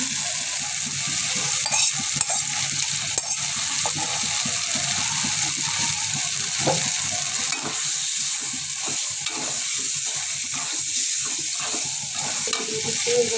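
Potatoes frying in spice masala sizzle in a pan with a continuous bright crackle, while stirring scrapes and stirs through the mix in uneven strokes. No one talks.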